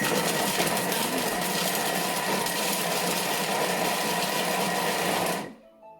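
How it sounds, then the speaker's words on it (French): A kitchen food processor blends leek risotto ingredients at speed 5, a loud steady motor whir held for about five seconds before cutting off sharply into near silence. "Et là, on va donc mixer tout ça pendant 5 secondes. Vitesse 5."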